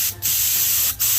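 Marine grade varnish clear coat is sprayed in two separate hissing bursts, the first brief and the second at the end, each a loud close broadband spray.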